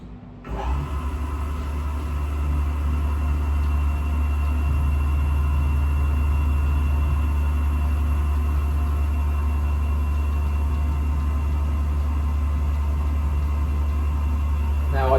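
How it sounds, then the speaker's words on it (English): A bench grinder with a blue grinding wheel runs steadily while its wheel is brought gently against the tip of a TCT saw blade, giving a loud, continuous motor hum and whine with no clear breaks. "I tap it very, very gently now until that grinding wheel, that blue grinding wheel there, touches the tip of the blade"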